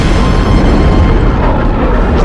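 A huge fiery explosion from Star Wars Return of the Jedi roars as a loud, sustained low rumble that fills the whole moment with no voices over it.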